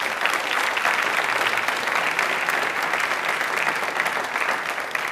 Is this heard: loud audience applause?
yes